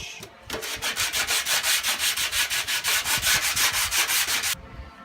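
A car body panel is sanded by hand in steady, rhythmic back-and-forth strokes, each a loud rasping scrub, for about four seconds before stopping, close up with no talking.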